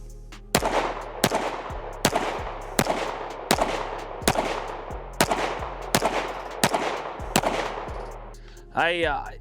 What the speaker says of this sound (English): let's get some more rounds down range here